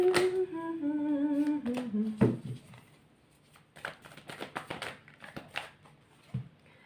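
Tarot cards shuffled and drawn from a deck: someone speaks briefly at first, then come soft, close card slaps and flicks in an irregular run, with a few sharper snaps standing out from a quiet background.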